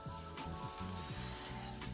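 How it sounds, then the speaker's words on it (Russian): Flatbreads fry in a pan with a small amount of oil, giving a steady, dense sizzle with faint crackles throughout a short, continuous stretch and no voices. "Лепешки будем жарить в небольшом количестве масла."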